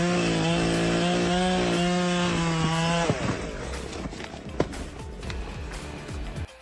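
A chainsaw cuts into a tree with a loud, steady engine whine for about three seconds, then the motor note collapses and gives way to scattered clattering and knocking.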